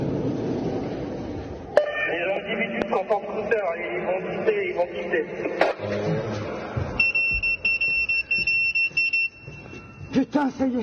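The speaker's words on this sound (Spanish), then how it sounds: "las alarmas del recinto comienzan a sonar" Security alarms at the Louvre museum, set off during a robbery, give a steady high electronic tone lasting a couple of seconds partway through, under continuous talking.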